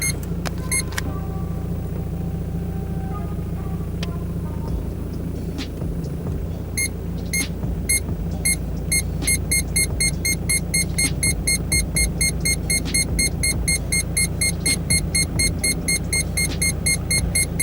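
A newly installed parking sensor beeps as a Volkswagen Passat reverses toward another car. After a brief idle stretch, it gives an insistent stream of rapid, evenly spaced electronic beeps over engine rumble.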